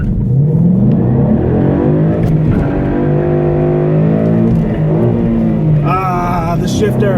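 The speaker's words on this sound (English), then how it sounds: "I wanted to give a little pull so people can hear what this car sounds like bone stock" A bone-stock 2013 Mustang GT engine roars close by, accelerating hard from a stop and revving up repeatedly through rising pitches, with a whine climbing near the end.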